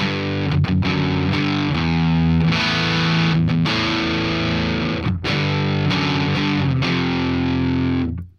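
Electric guitar with heavy boost saturation from the PolyChrome DSP McRocklin Suite amp plugin, a thick, loud, continuous distorted tone of chugging chords and sustained notes with a few brief breaks between phrases.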